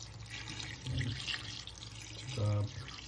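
Water runs from a kitchen tap while tinola with native chicken is being cooked, in a couple of short, louder splashing bursts over a low background hiss.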